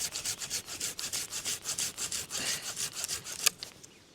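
Hand saw cutting firewood at a camp, with steady rhythmic back-and-forth strokes, each pass a rasping scrape, ending in a sharper final stroke; close and clear with no talk.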